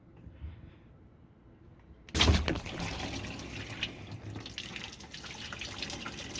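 Water bursts through a repaired RV water inlet after a quick-connect fitting is released, starting with a sudden loud gush, then flowing and splashing steadily nearby.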